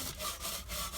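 A soft nylon brush scrubs a barbecue grill in quick back-and-forth strokes, a faint rasping rub repeating about three times in a second, heard alone and close.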